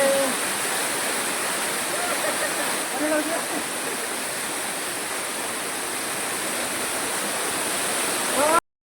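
Jakeda waterfall in Nayagarh, Odisha, roars steadily and loudly throughout, a dense unbroken rush of falling water that cuts off abruptly at the end.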